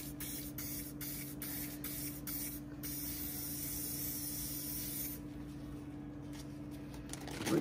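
Cleaner is sprayed onto the air filter of a Yamaha PW50 kids' dirt bike in a series of quick, close hissing spritzes, then one long steady spray, with a faint hum underneath and no talk.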